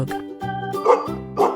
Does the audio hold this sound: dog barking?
yes